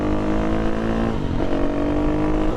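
A KTM 350 motorcycle engine is opened up and held at high revs, a loud, buzzing drone with a steady harmonic pitch that dips and rises briefly midway.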